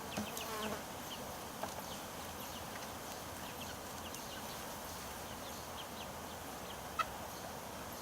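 A faint, steady buzz of honeybees from a package being installed drones throughout, thin and continuous, with a single brief click near the end.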